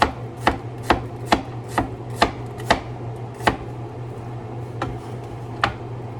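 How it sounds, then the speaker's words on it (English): A knife slices food very thinly on a cutting board while cooking pork chops with apples and onion, about a dozen crisp, close chops in an uneven rhythm over a low steady hum. "we're just gonna slice these really, really thin."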